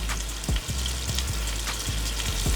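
Battered salmon and shrimp deep frying in hot oil, a steady close sizzle broken by repeated sharp pops and crackles.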